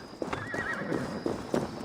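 Horse neighing and clip-clopping hooves in the video game Assassin's Creed Valhalla, a whinny rising over several steady hoof strikes that grow louder toward the end, with no talk.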